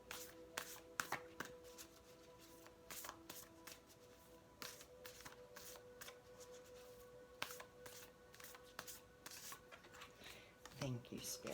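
Soft papery riffling and quick card snaps as tarot cards are shuffled, repeating close by, with brief pauses between bursts and a steady faint hum underneath.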